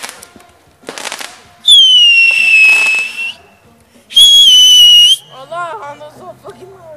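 Whistling firework shells scream in two loud, sustained high-pitched bursts with sharp pops around them, close by at a New Year's gathering, and people's voices are heard near the end.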